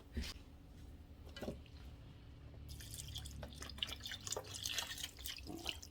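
Water is poured into a pot of oxtails, starting with scattered drips and trickles that build into a continuous splashing pour, close and quiet with no talking.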